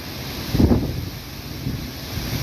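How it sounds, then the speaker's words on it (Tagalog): Strong wind by the sea buffets the microphone in low roaring gusts, with a steady rushing background like surf nearby. "ang lakas po ng hangin"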